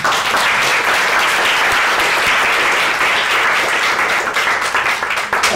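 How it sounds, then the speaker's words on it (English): Audience applause for a panel on inclusive cities: steady, dense clapping from a room full of people, loud and sustained throughout with no pause. "Then please clap for the panel."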